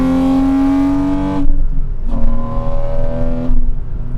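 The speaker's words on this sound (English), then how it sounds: "this car has one of the, if not the single-handedly most satisfying induction notes that I've ever heard" A 2006 Porsche 987 Cayman S flat-six revs hard with a loud, close induction note, climbing through several throttle blips in a steady rising rhythm with brief dips between pulls.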